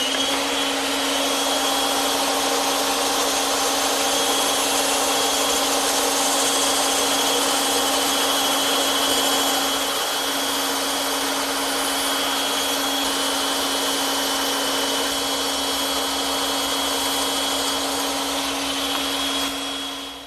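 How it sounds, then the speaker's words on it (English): Bandsaw cutting wooden candle-stand legs out of 3/4 inch stock: a steady, droning motor whine with a constant hum runs unbroken for about twenty seconds, close and fairly loud, with no speech. "And now I'm ready to cut those out using my bandsaw."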